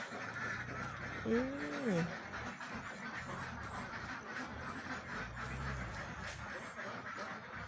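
Egg-laying ducks give a couple of nasal quacks, one clearer call followed by a fainter one, amid outdoor background noise with a person talking nearby.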